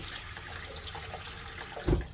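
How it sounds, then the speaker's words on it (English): Water runs and splashes into a large stock pot, a continuous broadband rush with a heavier splash near the end. "I'm going to put a little bit of water in my stock pot"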